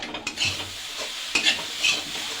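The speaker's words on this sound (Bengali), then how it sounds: "ভালো করে মিশিয়ে দেবো এটা।" A sticky sweet mixture with ground cardamom is stirred in a frying pan: a soft sizzle under repeated close scraping strokes of a spoon against metal, with no talk.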